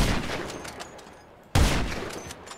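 Two loud gunshot blasts from a sniper rifle in the video game GTA 5, the second sharper and closer, each followed by a decaying echo, with no talking.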